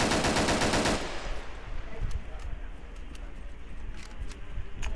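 Gunfire in the video game Arma 3, a rapid burst of automatic shots at the start giving way to scattered distant bangs and sharp ricochet cracks, with faint talk underneath.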